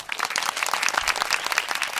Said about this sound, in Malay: Marilah kita memberikan tepukan gemuruh kepada rakan-rakan di atas pentas.